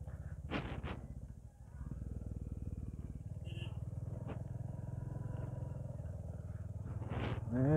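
A motorcycle rides along a village road, its engine a steady close rumbling drone that runs the whole way through, with brief voices near the start.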